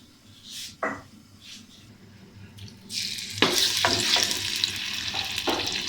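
Sizzling and crackling of garlic and ginger dropped into hot oil, loud and close, with a few clinks of a utensil against the pan.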